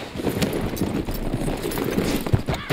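Horse hooves clip-clop in Red Dead Redemption 2, a steady run of hoofbeats in the foreground over a busy game soundscape, with no talk heard.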